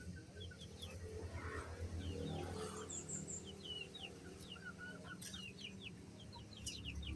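A young chicken clucks in short, scattered calls outdoors, with bird chirps and tweets around it over a low, constant background hum. The sound stays fairly faint, and no one speaks.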